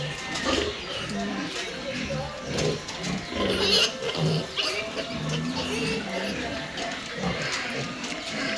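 Week-old piglets in a piggery grunt and squeal in short, scattered bursts beneath a person talking almost continuously nearby.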